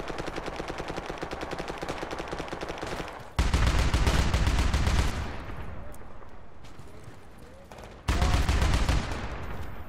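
Gunfire in a video game, with rapid automatic bursts, then two sharp loud blasts that each trail off into long echoing decays, close and dominant with no talk over them.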